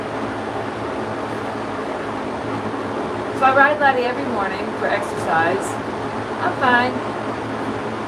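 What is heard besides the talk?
electric fan running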